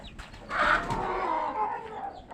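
Chicks of a black hen cheep and peep in a short, close burst of high, thin calls, with a clucking tone.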